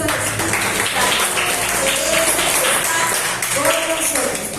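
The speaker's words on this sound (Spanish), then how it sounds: "Denle un fuerte aplauso al Espíritu Santo" A Peniel Church congregation in Cali breaks into loud, dense applause that fills the room, with voices and music mixed into the steady roar of clapping.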